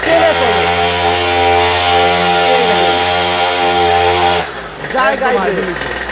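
A petrol-powered children's motorbike engine runs close by with a loud, steady buzzing drone, then its pitch shifts and wavers as the revs change toward the end.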